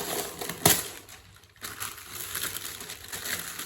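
Parchment paper crinkling and rustling as it is pulled out and handled for a micarta project, with one sharp crackle near the start and softer crumpling after a brief lull.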